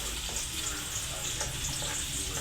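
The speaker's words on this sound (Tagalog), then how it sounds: "Ayan na, gigisahin na natin to mga idol." Chicken feet sautéing in a pan give a steady close sizzle and hiss throughout, with no talk.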